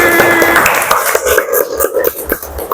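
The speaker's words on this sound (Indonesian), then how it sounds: "tepuk tangan untuk kita semua" Pupils in a classroom clap their hands in a short, loud round of uneven claps up close, with voices mixed in.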